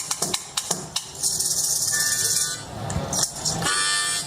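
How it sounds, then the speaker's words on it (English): A stump fiddle, a wooden stick with nailed-on bottle caps used as a rhythm instrument, is struck and shaken at a Tennessee fall homecoming. A rapid run of sharp rattling hits gives way to a sustained buzzy jangle, then a few more strikes. "This is just a stick with bottle caps nailed to it."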